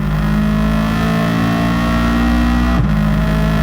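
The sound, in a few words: race car engine accelerating at full throttle, Gran Turismo 7 video game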